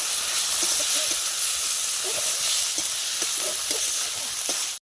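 Ginger and lentils go into a pan of banana stem for a Bengali vegetarian ghonto, giving a steady, loud hiss and sizzle of frying throughout, with faint scattered stirring clicks and no talking.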